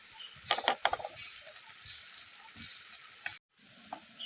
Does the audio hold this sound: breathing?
no